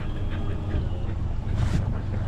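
A steady low engine drone and water rush from a heavily loaded motorboat moving across open water, with wind noise over the top.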